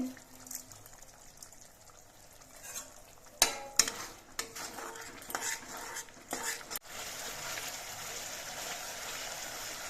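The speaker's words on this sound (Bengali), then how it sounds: "এবার সব কিছু দিয়ে আরও কিছুক্ষণ কষিয়ে নিতে হবে" Pointed gourd curry with yogurt and a little sugar is stirred and sautéed in a pan, giving irregular scraping and clattering strokes over a soft ongoing sizzle that grows steadier toward the end.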